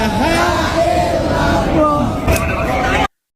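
A crowd of pilgrims performing Sa'i loudly shouts dhikr, a dense wall of voices yelling together, close and continuous until an abrupt cut.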